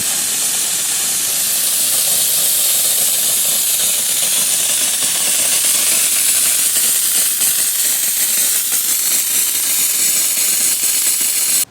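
Compressed air blasts through an inground sprinkler zone during a winterizing blowout, making a steady, loud, hissing mist spray that runs unbroken for the whole stretch with no voices.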